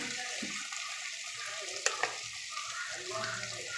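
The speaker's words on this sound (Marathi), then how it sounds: "हे वाटण चांगलं मंद आचेवर तेल सुटेपर्यंत व्यवस्थित परतून घ्यायचे." Malvani masala paste sautéing in oil over low heat for a prawn curry, a soft steady sizzle with occasional spoon scrapes and two sharp clinks against the pan.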